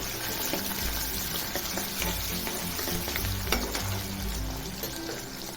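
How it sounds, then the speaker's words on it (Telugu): Chopped onion frying in hot oil with urad dal and curry leaves for a tomato curry, a steady loud sizzle with occasional stirring scrapes throughout, no talking. "ఒక ఆనియన్ కట్ చేసి పెట్టుకున్నాను, వేసేసాను. బాగా వేగనిస్తామండి."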